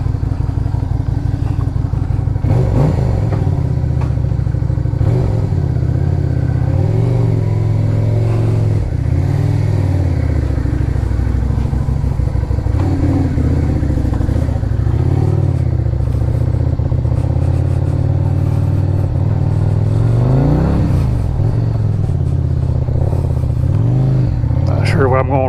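A Lifan Lycan 250 motorcycle rides on a cold winter day, its engine droning loud and steady throughout with wind rumble and small shifts in pitch as it accelerates and eases off.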